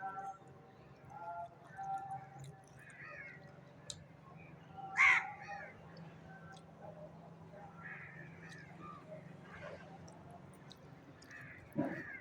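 A crow caws a few times in the distance, with one louder call near the middle, over faint outdoor background murmur that may include a voice.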